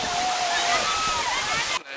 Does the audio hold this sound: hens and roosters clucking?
no